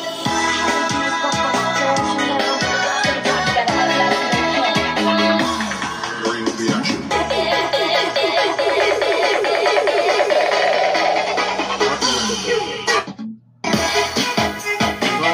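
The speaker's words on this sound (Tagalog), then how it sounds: "yung tunog ng Bluetooth speaker niya" A JBL KMC600 Bluetooth karaoke speaker plays music loudly and continuously with dense, layered tones. It cuts out briefly near the end and then resumes.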